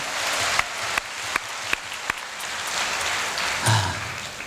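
An audience at a Korea University Korean Language Center summer performance applauds a band member, a steady wash of clapping with a few sharper nearby claps standing out, loud and continuous without talk.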